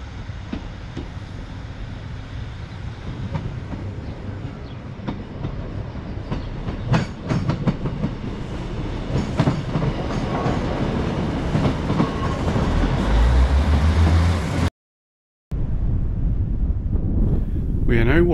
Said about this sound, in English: It looks like there is a train in Dalmally Railway Station.